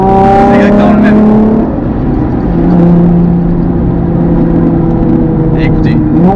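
A Nissan 350Z engine blips and revs through heel-toe downshifts, the pitch dropping and rising in loud, close steps with a brief lull in the middle and short rev spikes near the end.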